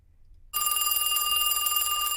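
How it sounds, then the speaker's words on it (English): A telephone bell rings loudly and continuously after half a second of near silence, a steady electronic trill with no voices over it. "You better get that. I don't like answering the phone."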